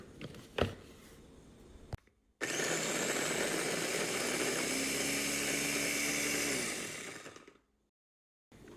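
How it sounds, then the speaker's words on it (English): A food processor whirs loudly for about five seconds, blending basil pesto with Parmigiano cheese and olive oil, after a few short knocks and clicks, then winds down and cuts to near silence. "blend this."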